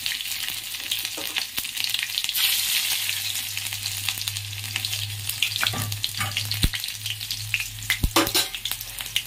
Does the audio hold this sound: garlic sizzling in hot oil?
yes